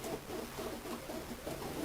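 A racing pigeon held in the hand gives soft, low cooing, a faint close-up burble repeated a few times against quiet room noise.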